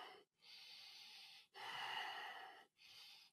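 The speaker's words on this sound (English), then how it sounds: "Long, deep breathing through the nose." Long, deep breaths drawn in and out through the nose during a Kundalini yoga stretching set, three airy, hissing breath strokes with brief pauses between them, close and soft, with no talking.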